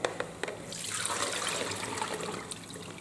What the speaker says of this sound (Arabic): دونك توا باش نصفيوه